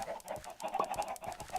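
Minecraft chickens cluck in short, repeated bursts, several birds overlapping at a low, moderate level with no talking.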